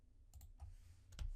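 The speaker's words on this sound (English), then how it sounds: "I keep typing in caps lock." Computer keyboard typing during a Call of Duty League bracket prediction stream: a few sharp key clicks over a low background hum, close and fairly quiet, with no talk.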